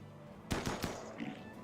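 Gunfire in a video game, three quick close sharp shots in a tight burst over a faint steady hum, followed by a softer short sound.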